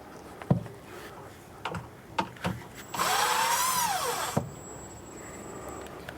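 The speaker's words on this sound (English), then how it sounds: "I need my drill." A power drill whirs for about a second and a half amid a few sharp knocks and clatters while swapping bins on a homemade root vegetable washing machine, nearby and with no talk.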